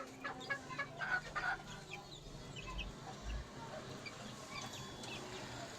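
Chickens cluck softly and intermittently against a faint outdoor background, with quiet low thumps and some distant murmuring.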